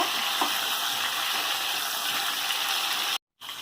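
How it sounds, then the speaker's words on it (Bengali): Spiced potatoes frying in oil until deep reddish-brown for chicken biryani, a dense, loud, continuous sizzle close up that cuts out abruptly near the end before briefly resuming. "ভালো করে লাল লাল করে ভেজে নেব"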